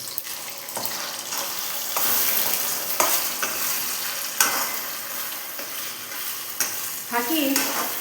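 A ground rice and coconut mixture being stirred into a hot spice tempering, with repeated scraping stirs over a hissing sizzle and a few sharper clacks near the end.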